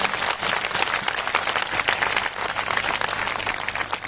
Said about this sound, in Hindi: ताली जाके ऐसे परमेश्वर की बड़ाई करें।